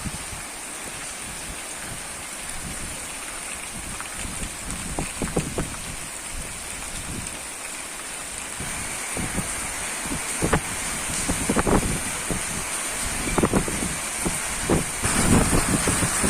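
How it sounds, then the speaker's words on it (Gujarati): Rain pours steadily with gusting wind in Jetpur, a continuous broad wash of rainfall with occasional buffeting thumps and splashes, constant throughout and moderately loud, no voices. "જે વરસાદ જે વરસી રહ્યો છે, લાઈવ દ્રશ્ય બતાવી રહ્યું છું આપને"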